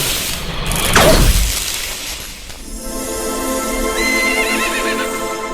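A horse whinnies loudly near the start, a rising and falling neigh over a busy background, followed by a quieter stretch with faint high tonal sounds.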